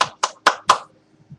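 A person's hands clap four times in a quick, close, uneven burst, each clap sharp and loud, with silence following and no talking.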